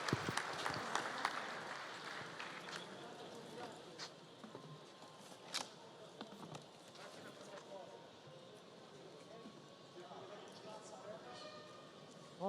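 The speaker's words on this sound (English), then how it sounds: "Give them a good round of applause." Spectators applaud a rescue team at a vehicle extrication competition, a burst of claps that fades into scattered clapping, with talking voices and occasional knocks over a faint outdoor background.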